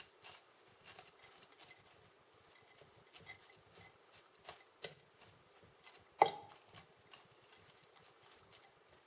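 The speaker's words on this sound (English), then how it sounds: "give that another stir" A spoon stirs green bean casserole in a dish, giving soft, quiet, irregular scraping and tapping strokes, with one sharper clink partway through.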